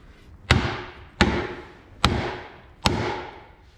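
A dead blow hammer strikes a bad truck u-joint from a 2012 Ford F-250 clamped in a vise, four heavy evenly spaced blows, each a sharp thud with a short ringing decay, close up and alone.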